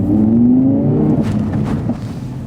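A 2020 Audi R8 engine revs hard and pulls away, a loud, steady roar with a rising pitch that sweeps upward before settling into a sustained growl, heard close with no voices.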